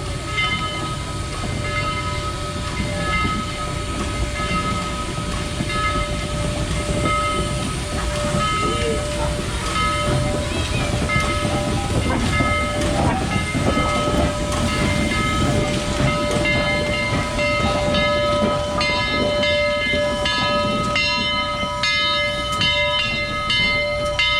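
Historic Southern Railway 4501 steam train running, a steady loud rumble of wheels and cars on the rails with a sustained tonal whine and faint clanks throughout, alone without talk.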